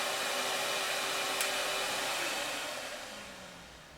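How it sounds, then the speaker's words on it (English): A central vacuum system runs steadily with a broadband whooshing roar that starts loud and then gradually winds down toward the end, with no talking. "If I turn the low, and the vacuum kicks in, you don't have to go turn your vacuum on and off manually."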